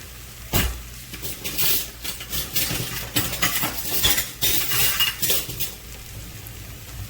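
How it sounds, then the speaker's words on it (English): A whisk stirs flour in a pan for gravy for smothered pork chops, with scraping and clinking against the metal pan over a steady background sizzle, close and fairly loud. "Get you a whisk and stir that up."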